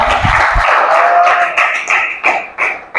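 A classroom full of students applauds, giving a burst of dense, scattered clapping with a few low thumps at the start. The clapping runs steadily, then breaks into several separate swells toward the end.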